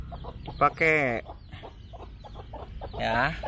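Chickens clucking close by, several short clucks and squawks scattered across the clip, with a person speaking briefly.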